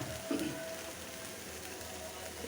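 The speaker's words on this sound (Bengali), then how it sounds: "এখন ডিমটা দিয়ে দেব এটা হাঁসের ডিম" A spiced sour yogurt curry sizzles quietly in a pan as a duck egg goes in, a soft, steady frying hiss with a faint stir, while a person talks.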